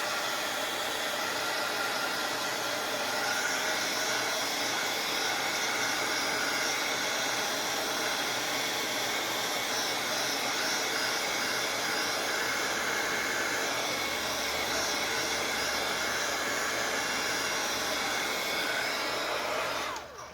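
Handheld heat tool blows steadily for about twenty seconds, drying two coats of paint on a mixed media affirmations book page; a loud, continuous hair-dryer-like whoosh that cuts off abruptly at the end.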